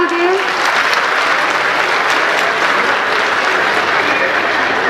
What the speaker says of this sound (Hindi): Please ताली बजा दीजिए.